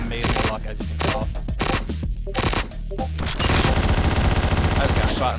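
Gunshots in Hotline Miami, with rapid loud bursts and single shots over pounding electronic music, firing turning into a dense continuous rattle near the end.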